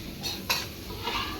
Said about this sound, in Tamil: இதை வந்து மீன் குழம்புக்காக எங்கள் சிஸ்டர் வதக்கிட்டு இருக்காங்க